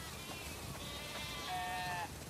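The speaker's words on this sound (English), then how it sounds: "We definitely have way too many sheep." Sheep bleat in a farm setting in The Last of Us Part II, a couple of wavering, drawn-out calls at moderate distance over a steady ambient background.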